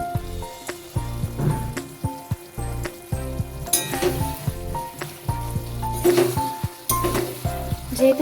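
Ridge gourd with dry chili powder and ground green chilies cooks in a pan over a low gas flame, giving a steady sizzle punctuated by regular scraping and tapping of a stirring spoon.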